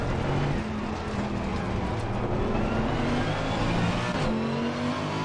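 A race car engine drones loudly and steadily in Assetto Corsa Competizione at Spa, the pitch climbing and falling through gear changes, close and continuous, with brief background talk.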